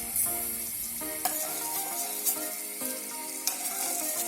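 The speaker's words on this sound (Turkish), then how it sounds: "Pul biberim kızıp rengini saldığında" Red chili flakes fry in hot oil for lentil soup, a steady sizzle broken by a few sharp clinks of a utensil stirring against the pan.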